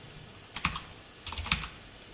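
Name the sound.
typing code on a computer keyboard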